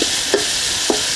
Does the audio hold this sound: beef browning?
yes